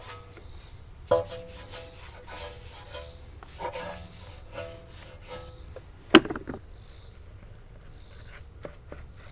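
A stiff brush scrubs the inside barrel of a filthy car wheel, giving uneven rasping strokes with short pauses, a few sharp knocks and one loud clack, close and without talk.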